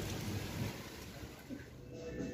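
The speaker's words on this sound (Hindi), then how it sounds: "अब प्रॉब्लम ये हो रही कि सुबह सुबह बारिश हो गई" Heavy early-morning rain pours steadily outdoors as a dense, even hiss with a low rumbling undertone that continues without a break, close and fairly loud.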